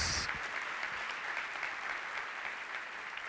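A church congregation applauds during a morning service, a steady, fairly distant wash of clapping that stays even throughout.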